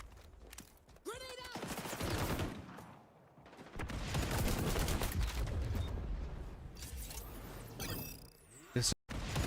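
Rapid bursts of gunfire ring out in the online shooter game XDefiant, with automatic fire and a person talking over the shots throughout.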